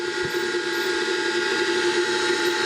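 An electric motor driven by an Invertek variable frequency drive at 60 Hz hums steadily with a strong tonal whine and a faint mechanical whir, with no one speaking.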